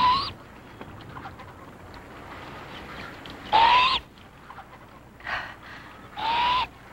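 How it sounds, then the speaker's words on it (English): A great horned owl hoots in three or four separate, fairly loud calls spaced a second or two apart, heard alone against a quiet background. "A great horned owl."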